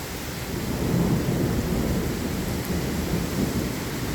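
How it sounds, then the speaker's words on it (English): A thunderstorm with heavy rain and strong wind outdoors: a dense, steady roar of rain with low thunder rumbling underneath and no voices. "Okay, there is a strike of lightning right now."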